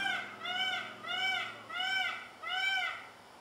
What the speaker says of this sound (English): That screaming noise you hear is a peacock,